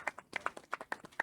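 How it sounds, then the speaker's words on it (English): Audience applause at a youth event: a short run of distinct, fairly quiet claps in an uneven rhythm, sounding like a small group. "Another round of applause for my brother."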